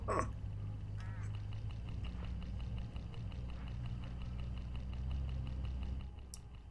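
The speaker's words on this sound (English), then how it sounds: "Look, hooded crows all along this road." Hooded crows caw along a roadside, the harsh calls fairly distant over the steady low hum of an idling vehicle engine.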